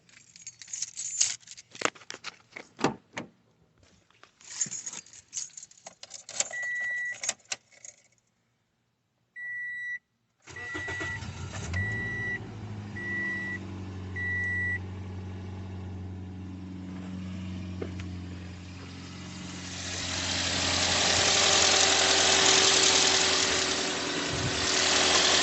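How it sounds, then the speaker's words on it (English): A car engine cranks and starts during a radiator flush, then settles into a steady idle with rising broadband engine noise; several short electronic beeps sound around the start, with no talking. "So I'm going to go and start the car"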